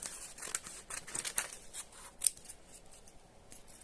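Scissors snipping through paper to cut out small labels, a string of close, crisp snips in quick succession that thin out and fade near the end.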